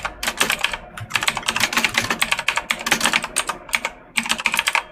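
Computer keyboard typing, a loud close clatter of rapid keystrokes in bursts broken by brief pauses, continuing for several seconds.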